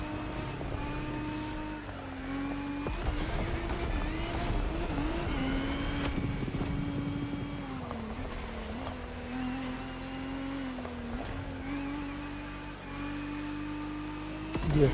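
Race car engine in The Crew Motorfest, driven on a rain-soaked track, holds a steady loud drone throughout with pitch rising and dipping through gear changes, no voices over it.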